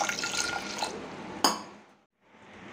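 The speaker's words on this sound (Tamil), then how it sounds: "தண்ணி மூழ்கிற அளவுக்கு சேர்த்துக்கோங்க." Water poured over washed moong dal in a kitchen vessel: a close splashing pour for about a second and a half, ending in a sharp clink, then quiet room tone.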